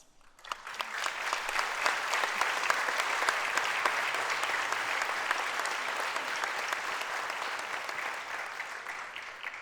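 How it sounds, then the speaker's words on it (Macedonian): An audience applauds at the closing ceremony of the 59th Vojdan Chernodrinski theatre festival in Prilep. Dense, steady clapping from a large crowd starts abruptly and continues evenly, slowly fading near the end, with no speech over it. "Мојот прв аплауз од мене е само за вас."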